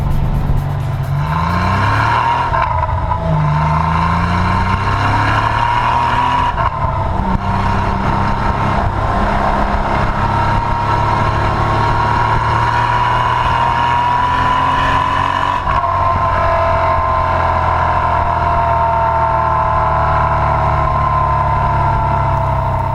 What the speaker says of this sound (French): je vous laisse en compagnie de l'échappement de cette auto. Écoutez le bruit, c'est magnifique.